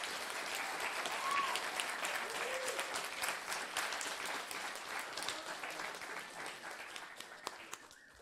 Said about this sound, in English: give another huge round of applause to all of the students